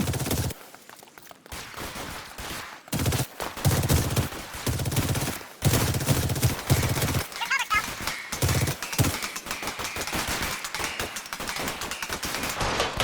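Machine gun fire in the video game L.A. Noire, rapid repeated bursts of automatic shots separated by short gaps, loud and close, with voices heard between volleys.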